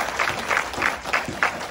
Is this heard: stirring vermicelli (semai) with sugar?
no